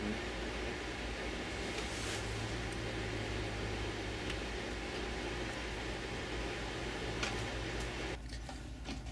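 A microwave oven hums steadily with a constant whirring drone and faint ticks, running alone before the noise drops off near the end.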